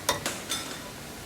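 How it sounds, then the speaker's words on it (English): Brown onion paste goes into a pan of cooking chicken korma: three quick clinks and scrapes of a spoon against the pot, then a soft steady sizzle carrying on underneath, close and moderately loud. "we'll add that brown onion paste to it."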